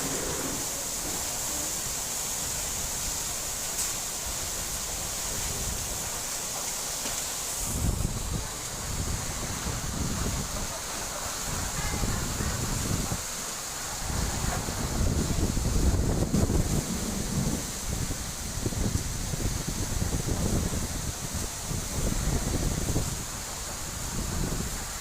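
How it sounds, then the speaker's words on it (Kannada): Heavy rain driven by strong wind in Uttara Karnataka, a dense continuous roar of gusts and downpour that swells and buffets the microphone, close and loud throughout with no voices. "ನೋಡಿ ಎಷ್ಟೊಂದು ರಭಸವಾಗಿ ಗಾಳಿ ಬೀಸ್ತಿದೆ,"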